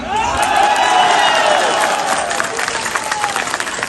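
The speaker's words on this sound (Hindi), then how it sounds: "लगाओ ना ताली यार" A large crowd at a political rally in Punjab, Pakistan claps and cheers loudly and continuously, a dense wash of applause with shouting voices mixed in throughout.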